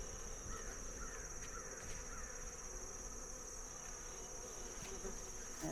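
Honeybees buzzing after being shaken off mint, a faint steady hum of many insects in the air, joined by occasional distant crow caws.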